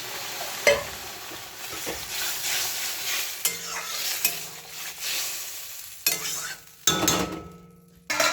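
Water splashing into mustard paste frying in a pan gives loud bursts of sizzling, with a spoon stirring and clinking against the metal between the hisses.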